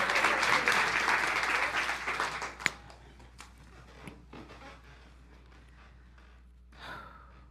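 An audience applauds to welcome a performer to the stage, a dense burst of clapping that fades after a couple of seconds into scattered claps, breaths and a few faint sounds from the crowd.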